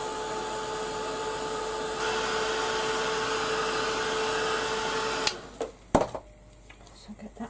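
A heat gun drying a colour wash blows with a loud, steady whirring hiss and a tonal whine, running continuously for several seconds before cutting off, followed by a few light handling knocks.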